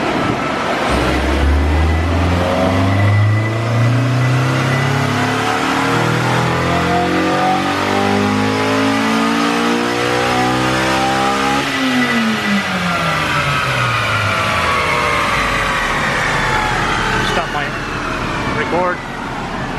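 A car engine, one of several S2000s or a Civic Si, revs hard through the gears on a chassis dyno, rising loud and close, dropping, then climbing again to a sustained roar.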